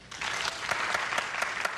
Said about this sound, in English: If you think yes, applaud.